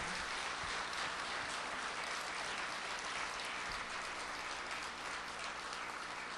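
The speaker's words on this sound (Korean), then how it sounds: "여러분 박수 한번 부탁드리겠습니다" At a Korean book concert, an audience gives steady, even applause that sounds faint and distant throughout.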